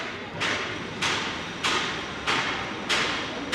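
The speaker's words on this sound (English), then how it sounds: "Don't you love the sound of jackhammers?" Repeated heavy pounding bursts, about every half second, ring out near a busy Broadway and 6th Avenue street in New York City, each one loud against steady traffic noise, like a jackhammer breaking pavement.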